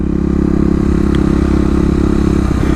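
Kawasaki KLX250 dirt bike, a 2018 model, idling and revving in first gear during a stand-up wheelie bounce, a steady close engine drone with mechanical clatter and a slight rise in throttle near the end.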